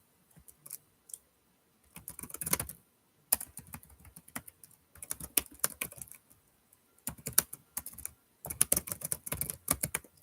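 Bursts of typing on a computer keyboard, rapid close clicks in irregular runs broken by short pauses, steady and fairly quiet with no voices.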